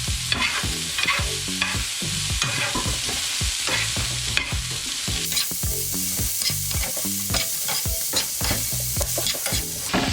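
Breakfast burrito filling frying in a pan while being stirred, a constant loud sizzle broken by repeated rhythmic scraping strokes of a utensil, close and without talk.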